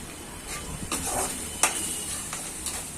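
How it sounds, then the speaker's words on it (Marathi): Finely chopped garlic dropped into a pan over high heat with already fried vegetables for a veg chilli or Manchurian, giving a steady close sizzle and hiss with a few sharp spatula clinks against the pan. "आता आपण लसूण टाकूया। हा बारीक लसूण चिरून घेतलाय मी।"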